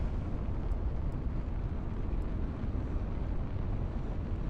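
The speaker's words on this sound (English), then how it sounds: "It's taking a long time to power up the engines." A spaceship's engines power up in the Starfield game, a steady dense roar that stays loud and even with no pauses, broken only by a few faint high ticks.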